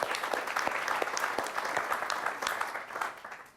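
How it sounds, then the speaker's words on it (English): Brief, dense applause from an audience at a university alumni event, steady and close, fading toward the end. "I'd like to give you a round of applause."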